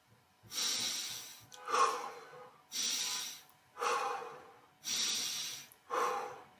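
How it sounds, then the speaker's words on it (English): Exercise breathing, rhythmic and close, with six breaths alternating between a mouth exhale on the way up and a nasal inhale on the way down, each lasting about a second and separated by short pauses. "I normally breathe out of my mouth when I'm coming up, and in through my nose when I'm going down."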